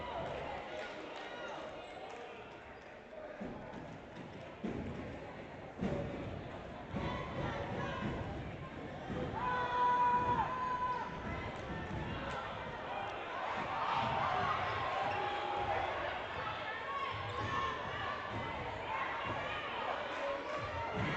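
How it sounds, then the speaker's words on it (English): A crowd in a high school gym roars and cheers during the final moments of a girls' basketball game, a broad swelling roar with shoe squeaks and bounces, under a commentator talking throughout. "Crowd starting to roar here as a lot of the fans starting to pour in here to the final moments of the girls' game."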